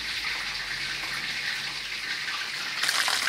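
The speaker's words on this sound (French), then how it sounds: "je vais rincer sous l'eau froide" Chicken thighs are rinsed under a cold tap: a steady, close rush of running water that splashes harder near the end.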